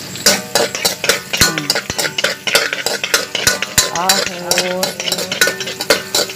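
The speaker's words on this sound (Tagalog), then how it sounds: "paabuton na ito na siya nga mag golden brown ang sibuyas. Sunod na ito nga ibutang is the ahos" Onions and garlic fry in a pan with a steady sizzle, broken by sharp, frequent clacks of a utensil stirring and scraping against the pan, loud and close throughout.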